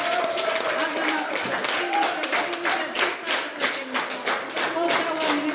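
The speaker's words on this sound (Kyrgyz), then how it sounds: "Кол чабуулар менен." Steady crowd clapping runs throughout, dense and continuous at a school mothers' competition, greeting the first-place team as it receives its diploma.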